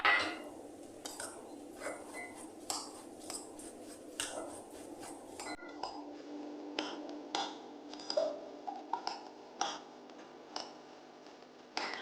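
Crushed graham biscuits and butter are stirred together in a bowl, giving close repeated scraping and clinking of a utensil against the bowl in an irregular rhythm.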